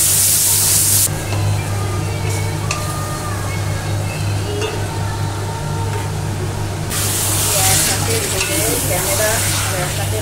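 Chicken and potatoes fry in a pan while being stirred, giving a steady, close sizzle with occasional scraping and clinking from the utensil, and no talking.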